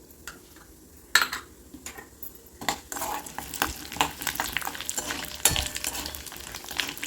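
Mustard seeds, cumin, urad dal and chana dal sizzle and crackle as they fry in hot sesame oil, with a sharp clatter of stirring against the pan, popping steadily close up and growing busier toward the end.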